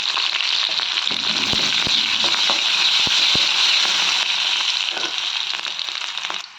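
About ten crushed garlic cloves and curry leaves frying in hot oil for a tomato thokku make a loud, steady, close sizzle, dotted with sharp pops and crackles through the middle and fading slightly at the end, with no one talking.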